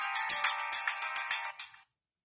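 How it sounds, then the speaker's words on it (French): A phone's ringtone chirps in a fast series of bright electronic pulses, about nine quick beeps in a rapid trilling pattern, clear and alone before cutting off into silence. "Excusez-moi, j'ai un coup de fil."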